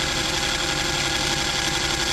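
A very early Smiths speedometer spins on a testing machine at 685 revs, giving a steady, continuous mechanical whir and hum that runs unbroken and fairly loud throughout.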